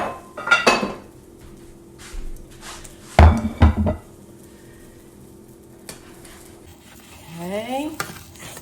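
Omelette with sauteed mushrooms in a frying pan, a soft steady sizzle under clattering of a utensil scraping and knocking against the pan, several sharp metallic clanks midway, then quieter sizzling.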